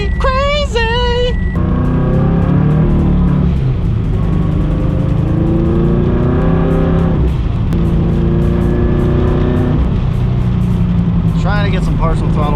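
Turbocharged Subaru BRZ pulling under partial throttle, its engine note climbing in rising harmonic sweeps, dipping between gears and pulling again, with a loud, steady drone of road and cabin noise and people talking over it.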